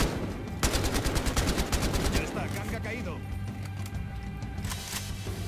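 Rapid bursts of gunfire in the video game Battlefield Hardline crackle loudly, then give way to scattered single shots in single-fire mode, with a voice talking over the action.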